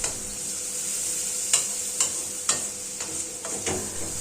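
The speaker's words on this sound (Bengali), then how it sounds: "সমস্ত উপকরণ একসাথে নাড়াচাড়া করে নেব।" Ingredients for a Bengali egg curry with curry leaves stirred in a hot pan, a steady sizzle and frying hiss broken by several sharp scraping stir strokes about every half second, close and alone.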